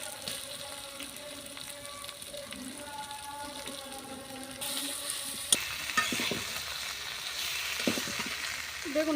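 Eggplant stir-fried in cooked spice paste with salt and sliced green chillies, a steady soft sizzle with stirring scrapes that turns louder and brighter partway through, sharp clinks of the spoon on the pan toward the end.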